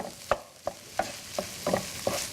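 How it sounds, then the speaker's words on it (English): Tofu being stirred in a frying pan after the heat is turned off: six evenly spaced scraping strokes of a utensil against the pan, close and clear, over a soft continuous sizzle, with no talking. "I'm going to turn off my tofu because we're finished with that. Stir it a little bit."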